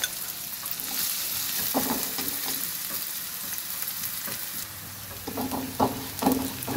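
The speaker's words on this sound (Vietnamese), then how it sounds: "tiếp tục mình cho hành tím với lại tỏi băm vô luôn nha" Sliced shallots and minced garlic fry in hot oil with a steady, bright sizzle. Occasional soft scrapes of stirring sound near the end, with no talking.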